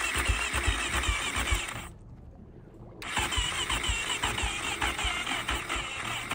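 A failing engine with oil in the throttle body cranks and runs roughly, loud and close, cutting out briefly to near silence before firing back up and revving unevenly.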